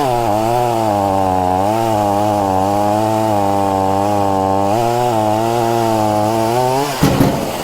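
A loud chainsaw roars steadily close by, its engine pitch wavering slightly as it bites through wood, then cutting off abruptly near the end.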